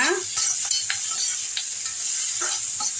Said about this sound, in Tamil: வெங்காயம் போட்டுக்கலாம் ஆயிலில் நல்லா வதக்கிடலாங்க